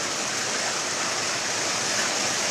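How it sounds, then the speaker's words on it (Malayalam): A short stretch of heavy, wind-blown rain: a dense, steady roar at an even level, with no talking. "ഗംഭീര കാറ്റും മഴയും"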